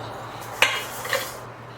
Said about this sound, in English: So now that it's all added, I'm going to whisk it up.